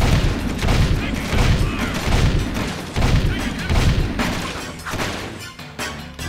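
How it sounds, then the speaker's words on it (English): Relentless rapid gunfire and explosive booms from enemy guns in the Jak II video game, dense overlapping bursts filling the whole stretch at steady loudness with no pauses. "Damn, guns are relentless!"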